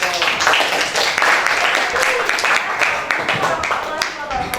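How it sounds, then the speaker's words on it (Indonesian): Applause from students in a classroom, a steady wash of many hands clapping for several seconds with voices mixed in. "Kita berikan aplaus."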